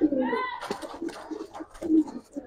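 Giribaz pigeons in a collector's loft coo in soft, throaty bursts, a few rolling calls close by, mixed with someone talking over them.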